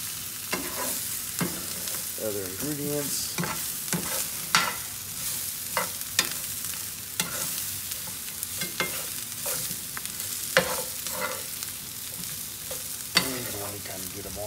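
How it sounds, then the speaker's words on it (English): Salt and pepper chicken wings are stir fried with peppers in a hot pan, giving a loud, continuous sizzle broken by repeated scraping stirs of the spatula, with a few words spoken briefly. "let's go ahead and start stir frying this all together"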